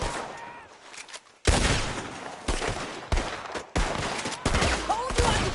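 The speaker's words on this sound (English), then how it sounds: "Told you I could shoot a gun" Repeated loud gunshots in the Red Dead Redemption 2 video game, a rapid string of sharp cracks in a roadside shootout, some overlapping and some trailing off.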